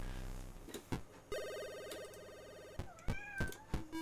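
Several short synthetic meows ring out in a quick irregular sequence, bright and chirpy, over a steady electronic game tone.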